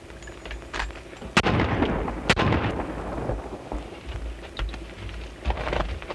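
Gunshots fired in a 1933 western film, two sharp loud reports about a second apart over a noisy, crackling old soundtrack background.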